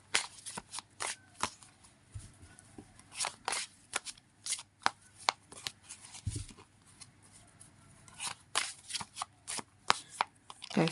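Tarot cards being shuffled by hand, with crisp riffling flutters and taps in irregular bursts, close and clear in a quiet room.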